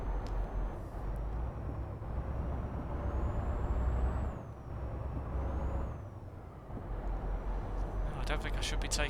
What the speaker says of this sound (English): Hit the brakes there.